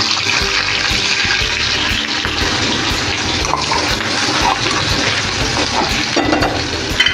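Finely chopped onion hitting the oil just used to fry bombil fish, a loud, rushing, continuous sizzle that stays strong and close for the whole stretch.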